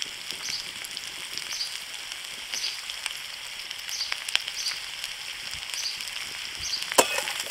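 Capsicum sizzles steadily in hot oil in a pan, added to onions for an egg chilli, with a continuous crackling hiss and occasional scraping stirs, close and moderately loud.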